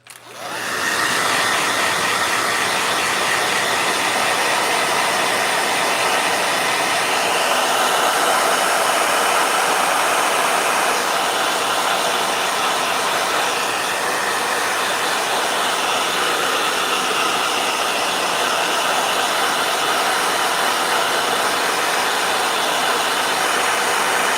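A hair dryer switches on and blows continuously, a steady loud whooshing hum that holds the same pitch for the full stretch.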